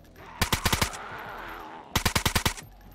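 Assault rifle fire in a zombie video game: two quick bursts of about five sharp, loud shots each, separated by a second or so of quiet room tone.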